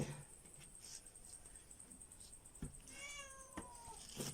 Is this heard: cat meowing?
yes